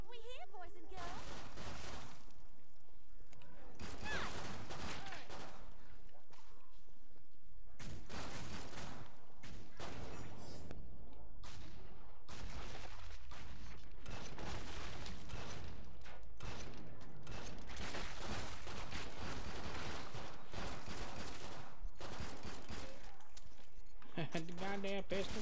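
Pistol gunfire in the co-op shooter Killing Floor 2, sharp repeated shots mixed with dense game noise and mechanical clatter, with someone talking over much of the action.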